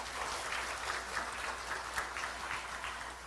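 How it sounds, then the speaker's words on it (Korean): Faint, distant applause from a hall audience at the opening of the 2013 Korea MICE network workshop, a soft continuous wash of many hands clapping with no talk over it. "큰 박수 부탁드리겠습니다"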